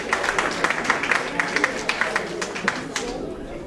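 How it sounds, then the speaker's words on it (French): An audience at a Paris gathering for the visit of the King of Bansoa claps for an honoree: steady, dense applause, close and lively, that fades toward the end. "On va l'applaudir très fort"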